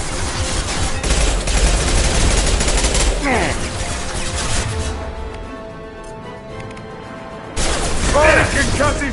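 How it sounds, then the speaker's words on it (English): Heavy gunfire with bursts and booming impacts from a concussive shot in the sci-fi shooter Mass Effect 2. The shots are loud and dense for several seconds, ease off briefly, then return near the end. "Firing concussive shot!"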